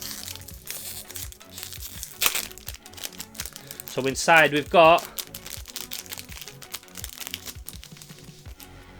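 Crinkly plastic and paper toy packaging is handled and pulled open up close: steady crackling rustle with a louder burst of crumpling midway, while someone talks over it.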